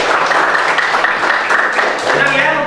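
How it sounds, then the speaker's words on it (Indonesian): Classroom applause from a group of students, dense continuous clapping filling the whole moment at close range and fairly loud, with some voices mixed in. "Tepuk tangan untuk kita semuanya."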